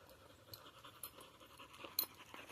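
A puppy pants softly and rapidly nearby in a quiet setting, with faint rustling and scratching around the quick breaths.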